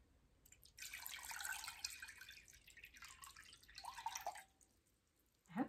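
Water poured from a pitcher into a bowl, a close splashing trickle that runs in two bursts with a brief pause between, then stops.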